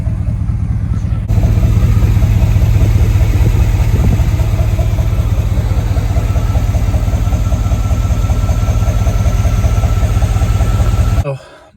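A 1985 El Camino engine idling loudly and close while misfiring on two or three cylinders, a constant rough, uneven rumble lasting about ten seconds before cutting off, with a voice briefly heard over it.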